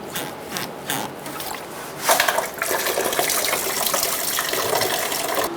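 Leftover coolant drains from a disconnected radiator hose on a 2014-2018 Subaru Forester, running as a steady, close, splashing stream after a few sharp knocks at the start.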